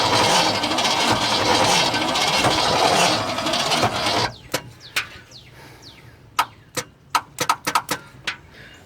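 A 1975 Chevrolet C20 truck, left abandoned for 39 years, cranks over slowly on its starter, a dense labored grinding churn for about four seconds that cuts off, followed by scattered sharp clicks and taps.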